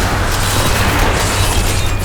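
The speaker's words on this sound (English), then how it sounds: "do some corpse explosions" Corpse explosions from a Necromancer skill in the Diablo III video game come as a loud, dense wash of booms and bursts, layered thickly and without a pause through the whole stretch.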